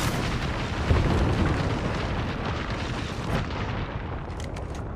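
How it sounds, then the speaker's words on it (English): Gibraltar's airstrike in Apex Legends, a sustained barrage of heavy overlapping explosions rumbling loudly for several seconds before thinning into scattered pops. "Airstrike."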